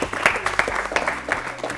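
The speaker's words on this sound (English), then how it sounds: "Please clap for them because they are the youngest of the four teams." Audience at a school quiz competition applauding the youngest of four teams, a steady burst of many hands clapping with sharper individual claps popping out, moderately close and unbroken to the end.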